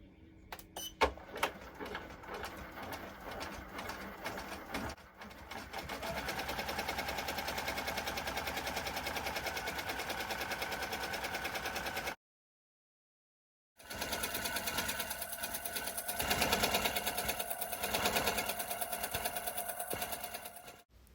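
An embroidery machine stitching satin-stitch appliqué letters on a shirt, with a steady rapid mechanical whirring and needle clatter that stops briefly for about a second and a half, then resumes at the same pace.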